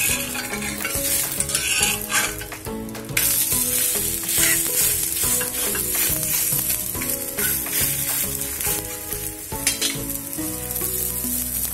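A tomato omelette fries in oil in a pan on low heat, with a loud, steady sizzle and crackle running throughout, plus a few utensil clinks and scrapes as it is flipped.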